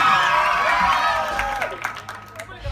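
A Malayalam Mappilappattu stage show audience claps and cheers loudly at first, with whoops and a singing voice over the crowd, and the applause thins and fades toward the end.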